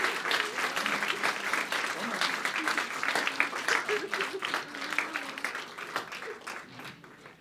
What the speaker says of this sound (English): Can I have another round of applause for Regina?